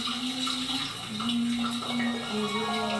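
Running water from a shower hisses steadily and fairly loudly throughout, with a low tonal hum and faint clatter mixed in and no talking.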